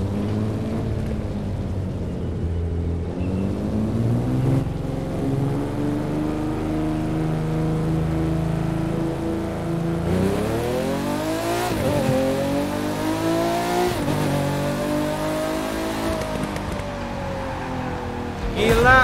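A Nissan Skyline GT-R in the racing game The Crew 2 on a test drive, engine droning and repeatedly revving up through rising pitch sweeps with gear changes, loud and continuous.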